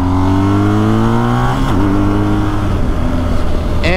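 A BMW R1250GS motorcycle engine climbs steadily in pitch as it accelerates hard, then drops on a gear change and pulls again, loud and close throughout over wind noise.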